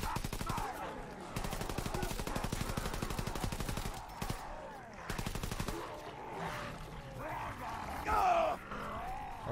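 Rapid bursts of M1911 pistol fire in the WW2 Zombies video game, loud and repeated in quick volleys, with grunts and a few vocal outbursts mixed in among the shots.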